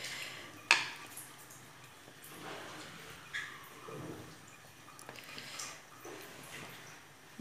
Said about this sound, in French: Je mélange. Et je vais couvrir encore pour que ça continue à cuire.